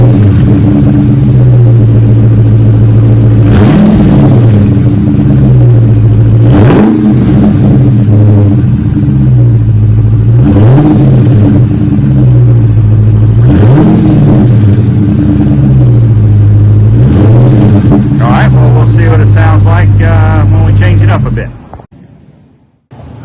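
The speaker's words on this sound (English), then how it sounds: "Do a little before shot, see what it sounds like before and after." A 2022 Dodge Charger Daytona on stock mid mufflers revs repeatedly, loud deep engine roars rising and falling in regular blips over a rumbling idle, close to the exhaust, before cutting off at the end.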